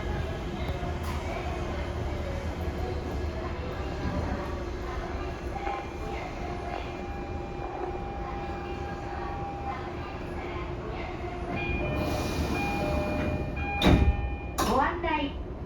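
Toei 10-300 series subway train with Mitsubishi IGBT-VVVF drive and squirrel-cage three-phase induction motors, heard from on board on the Keio New Line: a steady rumble and motor hum throughout, with door sounds and a chime rising near the end.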